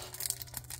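Plastic packaging around a Cuphead collectible card crinkles and tears in short, faint, scratchy bursts close by, with no voices over it.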